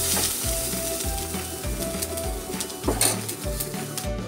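Bottle gourd peel and chopped onion sizzle steadily in hot oil, with a spatula stirring and scraping at a regular rhythm close by. Faint bird cooing sounds in the background, and no one speaks.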